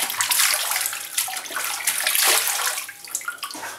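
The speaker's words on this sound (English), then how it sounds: "I need to wash all this off my face" Water splashes steadily and close by as shaving lather is rinsed off a face over a basin, a continuous wet sloshing with no talk.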